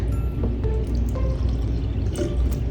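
Hot water, kept just below a burning temperature, is poured over a doll's hair, making a close, loud, continuous pouring and trickling splash that runs steadily throughout with no talk.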